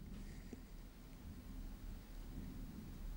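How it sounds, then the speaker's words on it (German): Thunder rolls during a storm as a steady, deep, low rumble that fills the whole stretch, fairly loud and unbroken, with no voices over it. "bei uns donnert's."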